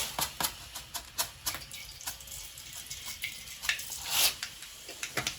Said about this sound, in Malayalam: ഇനി കുറച്ച് കടുക് ഇട്ട് കൊടുക്കാം